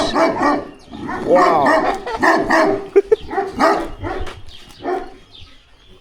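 Several large dogs bark and yip in quick bursts close by in Azerbaijan, some deep and some higher, with a person briefly exclaiming between them.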